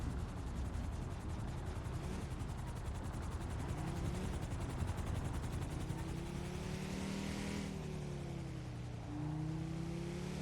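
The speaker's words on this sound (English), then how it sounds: "Oh, that's a helicopter." A helicopter in a GTA role-play game whirs with a steady rotor drone and a rising, shifting engine whine, loud and continuous, layered over a busy hiss of game background noise.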